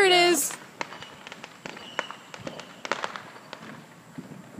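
Fireworks bursting over Katy on the Fourth of July, a rapid scatter of sharp pops and crackles at middle distance with a few louder bangs, a brief whistling rise at the start and faint voices nearby.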